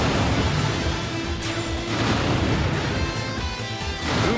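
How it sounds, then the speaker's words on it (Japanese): A heavy ōzutsu cannon fires in Warriors Orochi 4, producing loud, rumbling booms and crashing blasts that carry on through the whole stretch without a clear pause. "おお、大筒が火を吹きましたな。"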